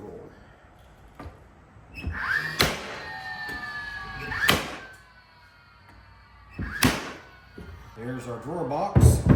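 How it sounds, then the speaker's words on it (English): A few sharp hammer strikes drive nails into a wide wooden kitchen drawer box during final assembly, spaced apart by short pauses and quiet handling noise. "We'll do a couple nails since it's a wide drawer."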